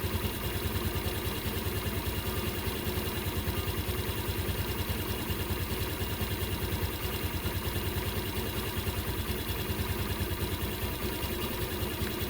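A Suzuki Burgman Street 125 scooter engine idles steadily throughout, with a constant, even, rhythmic low throb close to the microphone and no talking.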